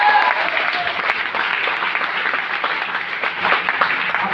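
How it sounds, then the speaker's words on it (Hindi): Audience applause fills the hall right after an emotional speech about parents: dense, steady clapping from a crowd, loud and sustained throughout with no break. "अपने माँ बाप के लिए तालियां बजा रहे हो तो ऐसे तालियां बजाओ"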